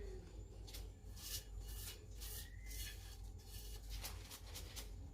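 Sugar is mixed with lemon zest in a bowl for Congolese croquettes, giving a steady, faint gritty rubbing and scraping with rhythmic strokes, close and without talk.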